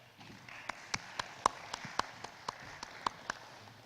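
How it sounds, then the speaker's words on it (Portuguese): A conference audience at a welding event gives a faint, sparse round of applause to welcome a speaker: about a dozen separate hand claps, distant and unhurried, with no voices over them. "Y le damos la bienvenida con un fuerte aplauso."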